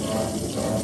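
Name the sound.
water running while rinsing down the sink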